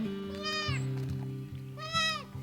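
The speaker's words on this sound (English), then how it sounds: "are probably gonna fuss and cry for a little bit until they kind of catch the drift of being goats" Baby goats crying in a farm pen, two distinct bleats about a second and a half apart, close and fairly loud, over a steady low background hum.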